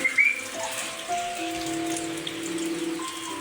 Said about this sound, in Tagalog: Maulan kasi.